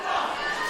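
A wrestling crowd roaring and cheering during a deathmatch, a brief dense wash of massed voices heard from a distance.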